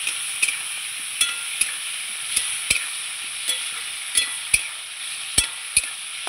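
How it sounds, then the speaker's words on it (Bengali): A paste of yellow and black mustard seed ground with ginger, thinned with a little water, sizzles steadily in a hot pan while a spatula stirs it, scraping the pan in sharp, irregular clicks. "ভালো করে নাড়াচাড়া করবো।"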